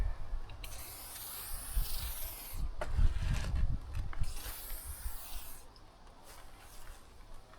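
A cutting tool carves a notch in a block for an outdoor retaining wall around a firepit area, giving a rough, rasping grind that swells and fades in two long passes with a brief pause between, fairly close.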